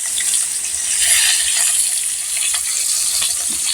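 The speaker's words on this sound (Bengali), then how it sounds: "আমরা একটা মাছ দিয়ে রান্না করবো ভাজতেছি এখন" A fish frying in a pan in a home kitchen, a loud, close, continuous crackling sizzle with bright spitting bursts and no voices.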